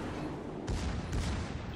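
A ship explodes in the World of Warships naval battle game: two heavy, booming blasts in close succession, loud and close, over a rumbling background.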